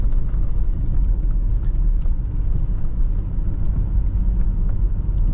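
A 1992 BMW E34 520i with the M50 engine cruises through city streets, heard from inside as a steady low rumble of engine and road noise at moderate volume, with no talk.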